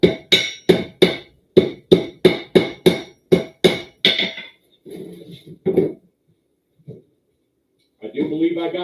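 Hammer blows on hot steel during a forge weld at an anvil, about a dozen sharp ringing strikes in a fast steady rhythm, close and loud, then a few scattered knocks and a pause before a low rumble at the end.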